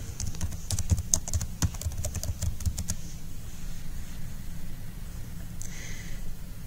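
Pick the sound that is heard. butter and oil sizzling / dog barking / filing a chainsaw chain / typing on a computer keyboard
typing on a computer keyboard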